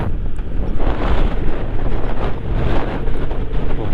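Strong wind blows through the Spiti valley, a loud continuous gusting roar buffeting the microphone with steady turbulent rushing and no voices.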